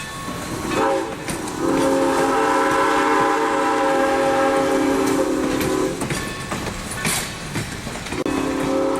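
A train rolls in with a long blaring horn over rumbling wheels and squealing, loud and near, the horn sounding in sustained blasts.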